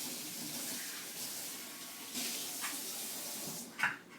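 A tap runs to rinse out empty containers for recycling, a steady close flow of water with a slight splash toward the end.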